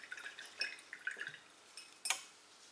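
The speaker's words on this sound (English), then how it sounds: "I remove a little bit the excess that is dripping down." Excess paint dripping from a brush down a Hrothgorn Ogor Hunter miniature: a few soft, close drips and small wet taps, scattered and faint in a quiet room, with one sharper drop near the end.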